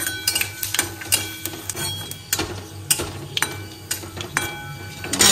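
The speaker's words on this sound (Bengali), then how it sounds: "পাঁচফোড়নটাকে আর শুকনো লঙ্কাটাকে একটু ভেজে নিয়ে" Dry red chili and panch phoron fry in a pan with a soft sizzle, broken by repeated clinks and scrapes of a spoon stirring against the metal, close and fairly loud, with no talking.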